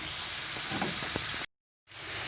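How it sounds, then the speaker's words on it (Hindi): Tomatoes hit hot oil in a Shinwari mutton karahi and sizzle with a loud, dense hiss and crackle, broken by a brief moment of silence before the frying resumes. "ये देखिए मैंने टमाटर ऐड कर लिए। तो अभी मैं इसको थोड़ा कुक करूँगा।"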